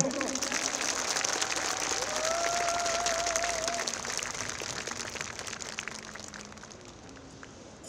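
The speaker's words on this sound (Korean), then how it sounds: "세 분께 큰 박수 부탁드립니다" Crowd applause at a public-sector workers' strike rally, steady outdoor clapping that slowly fades, with a distant voice and faint tonal sounds over it.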